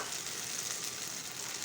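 Batter sizzles and crackles in a hot frying pan greased with a little white oil, a steady hissing fry that is close and continuous for a brief moment, with no voices.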